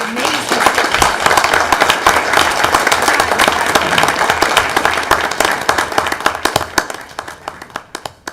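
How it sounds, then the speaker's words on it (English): A crowd at a board of education meeting gives a loud, sustained round of applause with dense clapping that thins into scattered claps at the end, with some voices mixed in. "can I have another round of applause for you?"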